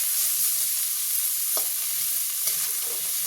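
Fish pieces for masala fry stir-fried in a pan, a steady broadband sizzle throughout with a couple of brief scraping stirs, close and moderately loud, no voices.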